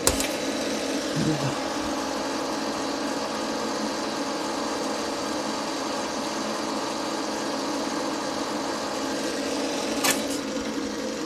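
An Iskra MIG 280S welding machine motor runs under load with a steady mechanical hum and whir, constant throughout, with a brief click near the start and another near the end.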